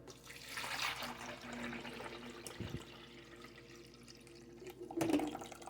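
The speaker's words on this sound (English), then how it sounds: "The next thing you're going to do is add the water." Water is poured into the reservoir of a coffee maker while making a pumpkin spice ice cream latte, a faint trickle and splash close by with a couple of soft knocks.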